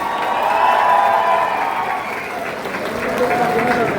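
An audience at an event in Bahrain applauds a small child who made a picture out of Rubik's cubes, a dense, steady burst of clapping with voices talking over it.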